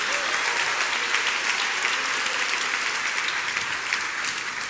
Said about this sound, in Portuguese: dá aquela salva de palmas bem alta ao Senhor